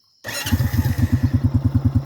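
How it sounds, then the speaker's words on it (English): An ATV four-wheeler engine sputters to life after a moment of silence, then settles into a loud, steady pulsing idle with rapid rhythmic chugging close by, on a farm. "Sorry about the noise with the four-wheel."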